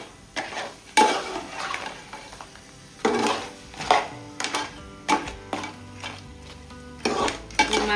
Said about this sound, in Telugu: ఈ పీతలకి ఈ మసాలా అంతా పట్టేలాగా కలిపేసుకున్నాం